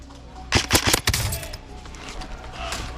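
Airsoft guns fire in a game at Black Ops Airsoft in Bristol, Wisconsin: a quick cluster of sharp cracks in the first second, then a duller pop, fading into steady outdoor background noise.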